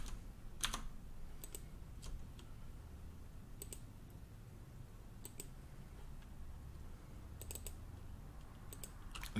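Computer keyboard typing with scattered mouse clicks during a QDX radio firmware setup, quiet and close, with irregular bursts of keystrokes over a low background hum and no talking.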